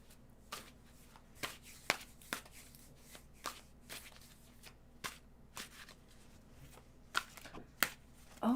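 A deck of tarot cards shuffled softly and close, with a loose run of light riffling clicks and taps against a quiet room.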